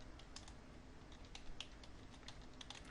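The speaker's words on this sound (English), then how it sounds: "I'm going to type in Video Newsletter." Typing on a computer keyboard, a fast, steady run of faint light key clicks close by over a soft background hiss, without any talk.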